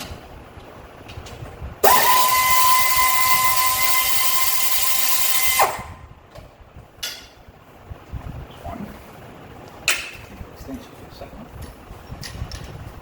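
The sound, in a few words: removing two 13 mm starter bolts with a power tool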